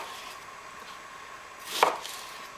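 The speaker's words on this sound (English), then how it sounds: "And you'll want your onion chopped." A single knife chop through onion on a cutting board, one short close impact over a quiet room background, no voices.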